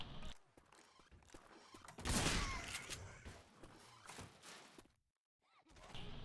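Shotgun blasts in Left 4 Dead 2 during a one-on-one match, several dense bursts of gunfire with thuds and movement, a loud cluster in the middle, a brief silence, then more action.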